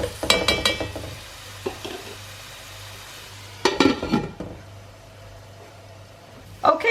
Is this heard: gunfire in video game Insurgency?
no